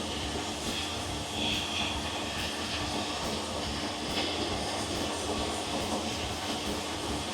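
A pneumatic tool with a carbon bit runs steadily on shop air while work is done on a Dodge Charger body, giving a continuous broadband whir and hiss that holds at an even level for the whole stretch.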